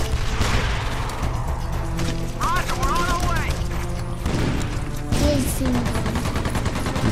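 Rapid machine gun fire in Earth Defense Force: Insect Armageddon co-op play blends with bursts, explosions and a continuous loud din of game effects, while players talk over it.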